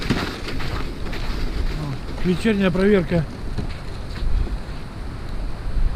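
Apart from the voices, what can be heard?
strong wind on a lake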